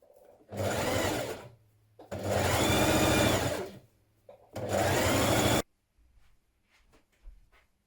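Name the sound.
sewing machine hemming dress sleeves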